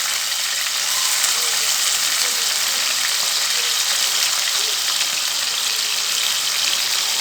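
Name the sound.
chopped onions frying in oil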